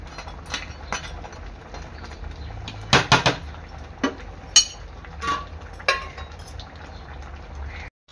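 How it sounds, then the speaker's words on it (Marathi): A pot of crab masala curry in a sour gravy bubbles and simmers, with soft liquid gurgles punctuated by a few sharper clinks and stirring knocks close by. "आपलं आंबट आहे ना चांगलं एक 7 ते 10 मिनिटं उकळून घ्यायचं आहे"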